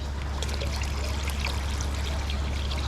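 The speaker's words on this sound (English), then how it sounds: "we'll be putting some more of this water into there, like we've been doing" Water pours steadily into a fish tank at a rescue facility, a continuous close trickle and splash with no voices.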